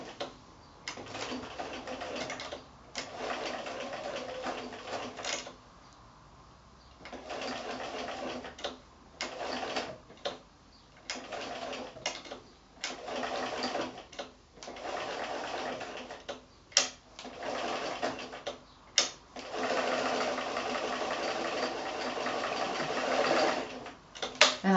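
A sewing machine stitches felt appliqué in repeated bursts of rapid, even needle chatter, pausing briefly between runs as the fabric is turned, fairly close and alone.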